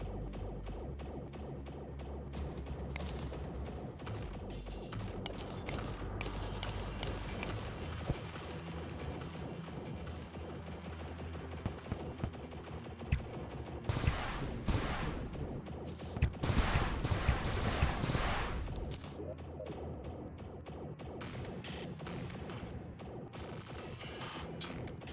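Enemies fire at the player in a Terraria Calamity mod laboratory area, a dense rattle of rapid shots and mechanical clanks running continuously over game music, with heavier crashing bursts in the middle.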